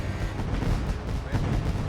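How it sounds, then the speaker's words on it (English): Loud fireworks go off at the Eldora race track: a rapid series of heavy booms and cracks over a continuous roar. "those fireworks are so loud"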